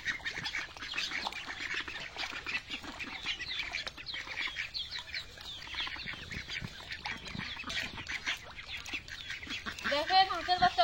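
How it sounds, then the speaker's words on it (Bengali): Ducks and ducklings quacking and squawking restlessly at feeding time, a dense, busy chorus of overlapping calls running throughout, with a louder, nearer quack near the end. "দেখেন হাঁসের বাচ্চাগুলো আর হাঁসগুলো খাবার জন্য কেমন ছটফট করতেছে"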